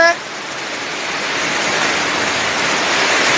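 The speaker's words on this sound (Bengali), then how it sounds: "দেখো কীভাবে বৃষ্টি পড়ছে" Heavy rain pours down steadily during a storm, a dense, continuous hiss that swells slightly louder over a few seconds, with no other sounds standing out.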